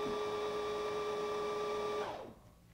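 A sewing machine winds thread onto a bobbin with a steady, close motor whir that runs evenly for about two seconds, then winds down and stops.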